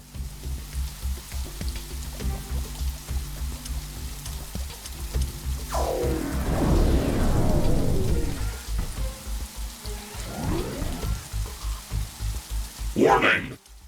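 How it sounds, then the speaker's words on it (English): Rain falls in the sci-fi video game The Riftbreaker, a steady patter under a pulsing game soundtrack, with sweeping synthetic whooshes and swells of game effects rising over it. "It's raining. It will decrease the output from solar panels until it stops."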